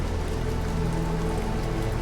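Rain falls steadily in the video game The Caribou Trail, a soft, even hiss of drops on muddy ground with no breaks, fairly quiet and constant throughout.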